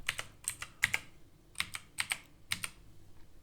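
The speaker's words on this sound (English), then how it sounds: "then typing /login" A short web address is typed on a computer keyboard, with crisp, close key clicks arriving in small clustered bursts separated by brief pauses, against a quiet background.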